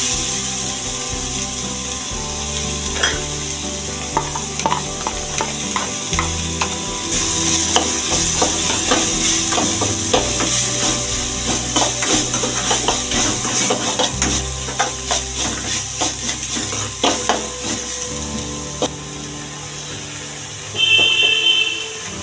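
Chopped onions sautéing in hot oil in a pan for paneer butter masala, a steady sizzle broken by repeated scraping stirs and clinks of the spatula throughout, with no voices.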